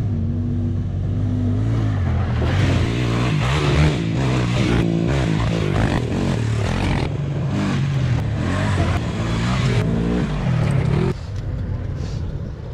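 A sport quad, a 400-class ATV, revs hard on a hill climb with a loud, close engine note rising and falling through throttle bursts and gear changes, and voices talking beneath it before the roar eases near the end.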